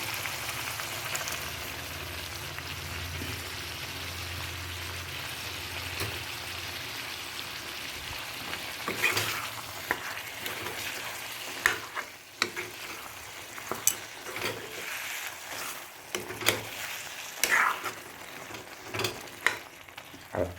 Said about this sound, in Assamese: এতিয়া আমি ইয়াতে নহৰু আদা যিটো পেষ্ট বনাই থোৱা আছিল সেইটো আমি দি দিম।